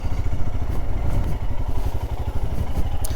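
A Royal Enfield Scram 411 motorcycle rides over a rocky trail, its single-cylinder engine thumping steadily and loudly up close, with rattles and clatter from the bumpy ground.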